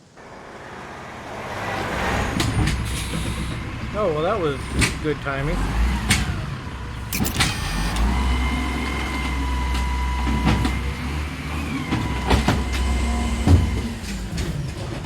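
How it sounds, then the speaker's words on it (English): A garbage truck drives past in the video game Secret Files: a low engine rumble builds and holds with clanks and hisses, while a voice speaks briefly over it. "Then another truck comes for the bio waste."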